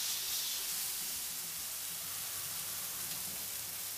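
Water poured into a pan of frying soy for vegan shawarma gives a steady, broad hiss and sizzle that holds at an even level for the whole clip.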